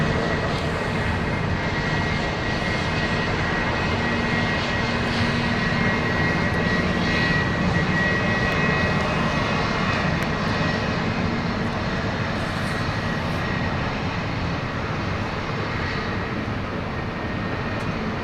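Airplane engines running steadily at London City Airport, a loud continuous jet whine and rumble heard from nearby, unbroken for the whole stretch with no voices.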